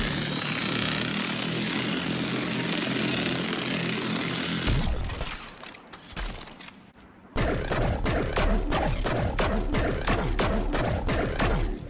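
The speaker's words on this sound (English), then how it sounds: "the sound designer for the new trace rifle did share a clip showing exactly what it sounds like" A new trace rifle in Destiny 2 fires in sustained, loud, buzzing, propeller-like bursts, first as one long drone, then after a short quieter pause as a rapid, evenly pulsing stream, with no voice.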